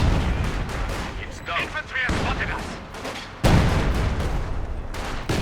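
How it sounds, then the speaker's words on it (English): A field artillery barrage in Company of Heroes 2 rumbles with dense, overlapping booms and gunfire, loud and sustained, with a sharper blast near the end and a voice faintly audible underneath. "And there we go, following up with a nice field barrage"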